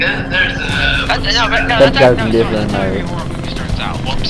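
A helicopter in the military video game ArmA 3 gives off a steady, loud engine and rotor drone that runs throughout, under continuous talking.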